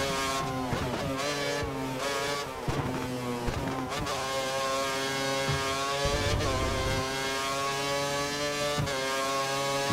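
A Formula 1 race car in the F1 2013 racing game howls at full throttle around Silverstone, its loud high-pitched engine note climbing and dropping through quick gear changes without pause.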